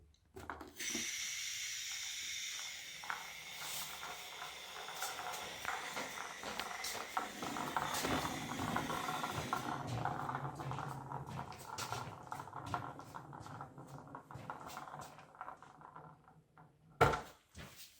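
A balloon-powered toy car made from an Oral-B mouthwash bottle rolls along, its air escaping in a steady hiss with light wheel rattle and patter, fading before a sharp knock near the end.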